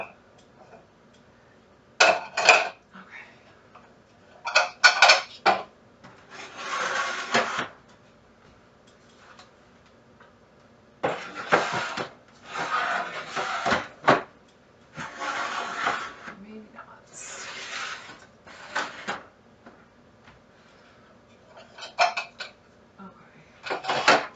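Food processor parts and bits of plastic clatter and knock as they are shifted around on a pantry shelf, coming in short irregular bursts with quiet gaps and a voice talking between them.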